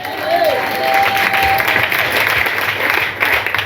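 A church congregation applauds steadily and loudly in acclaim of Jesus, a dense wash of clapping that fills the room, with a voice briefly audible over it.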